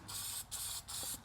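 Graphite anti-seize coating hisses from a spray can in three steady bursts of about a third of a second each, close by, with short gaps between them and no talk.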